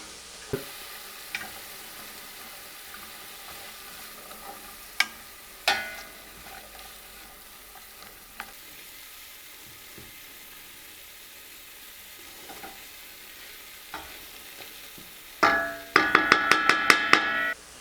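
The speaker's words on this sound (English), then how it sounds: "It'll take about 5 minutes for them, and then I'll grab the garlic and throw it in and saute that for about a minute until it's fragrant." Vegetables and garlic sautéing in a pot for smoked salmon chowder, a faint steady sizzle with occasional utensil taps, ending in a louder burst of rapid clicks.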